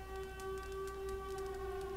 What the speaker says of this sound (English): we can already hear the sirens and everything going off up here